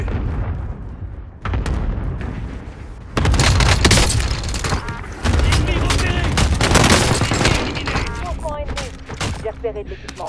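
Call of Duty Warzone Resurgence battle-royale gunfire: bursts of automatic fire and single shots crackle loudly, swelling into heavy sustained volleys after a brief lull, with game voices speaking French underneath.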